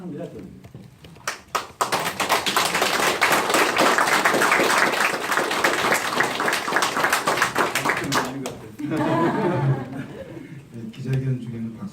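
A crowd bursts into rapid, loud clapping during a political press conference announcing a campaign pledge. The sharp claps run for several seconds, then stop abruptly as a voice takes over.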